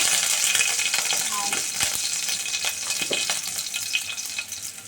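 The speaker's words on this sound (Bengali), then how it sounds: "কড়াইতে প্রথমে দু চামচ সর্ষের তেল দিয়ে তাতে কাঁচা লঙ্কা" Green chilies sizzle and crackle in hot mustard oil in a wok, a steady close frying hiss with occasional light stirring clinks and no talking.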